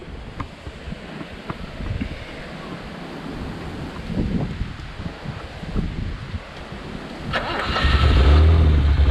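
A BMW E24 633CSi engine cranks with rough, uneven turning over and rustling, then catches near the end and settles into a loud, low, steady run close by.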